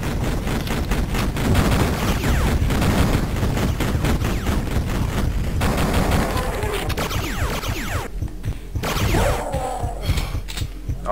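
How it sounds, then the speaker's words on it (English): Shotgun blasts in Duke Nukem 3D, a dense run of loud, rapid sharp reports over steady game noise that thins out toward the end. "Got three shots with a shotgun"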